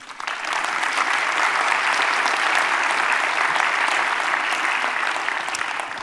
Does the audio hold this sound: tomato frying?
no